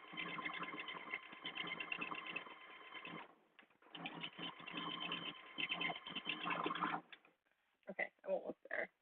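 Sewing machine stitching fabric for a Delphine duster, heard as a steady close mechanical whir that runs in long bursts, briefly pauses and then returns as short spurts, with a voice talking over it.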